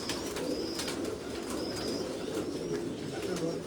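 Pigeons in a small, cramped rooftop loft, including a golden-coloured bird, coo steadily nearby, with a dense bed of murmuring calls and a few sharper chirps over the top.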